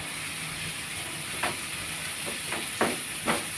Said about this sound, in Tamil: இதுக்கு இந்த எண்ணெயிலே தான் வதங்கணும்